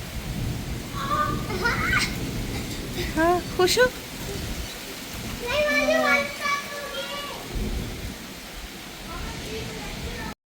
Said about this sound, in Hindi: वाह, बारिश स्टार्ट हो गई है।